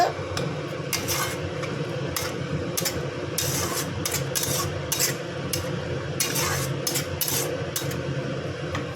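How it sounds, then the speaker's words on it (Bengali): Spice paste with chili powder and a little sugar is fried and stirred in a pan, a low sizzle under repeated scraping and clinking of a spatula against the metal, close and uneven in rhythm. "মশলাটা একটু ভালো করে ভেজে নেব লঙ্কা গুঁড়ো দিয়ে দিয়েছি"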